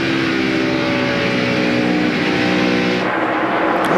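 NASCAR Winston Cup stock cars race at the 2002 UAW-GM Quality 500, their engines a loud, unbroken roar that holds a steady pitch and then shifts slightly as the pack passes.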